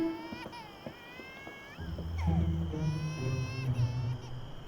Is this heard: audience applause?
no